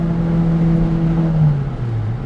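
Honda K20 engine in an MR2 Spyder on a drive, a loud steady engine drone whose pitch drops as it shifts from third to fourth gear.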